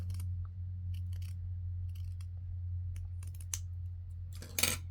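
Scissors trimming lace for a scrapbook file folder pocket, giving a few faint snips and clicks over a steady low hum, ending in a brief louder cutting sound.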